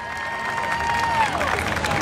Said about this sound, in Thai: ขอเสียงปรบมือดังๆด้วย